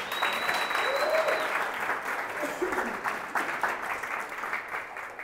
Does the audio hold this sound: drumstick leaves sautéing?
no